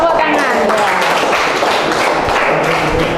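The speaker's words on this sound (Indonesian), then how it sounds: "Betul, tepuk tangan." Classroom applause from students during a lesson, a dense burst of clapping that continues steadily for about three seconds, with voices mixed in.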